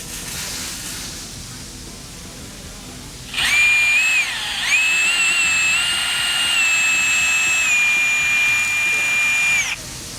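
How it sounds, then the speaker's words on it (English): A power drill fitted with a 5/16 bit whines steadily while boring holes for Polaris Xpedition fender flares. Faint background noise gives way to a loud, sustained high motor tone that dips briefly, then holds until it stops. "you can go ahead and drill them out using a 5/16 drill bit"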